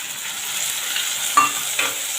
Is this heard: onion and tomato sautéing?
yes